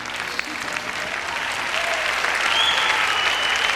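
A dance championship crowd in Denmark applauds after a Viennese Waltz, dense clapping building slightly and holding steady throughout at moderate distance.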